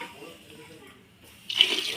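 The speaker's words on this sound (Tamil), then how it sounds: "தண்ணி ஆட் பண்ணிக்கலாம் ஃப்ரெண்ட்ஸ்." Quiet kitchen background gives way to water suddenly pouring into a pot for vegetable biryani, a steady splashing stream close by.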